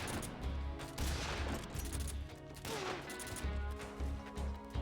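Repeated shotgun blasts in Metal Gear Solid 3: Snake Eater, heavy booming shots fired in a steady run-and-gun rhythm, loud and close over busy game sound with light talk.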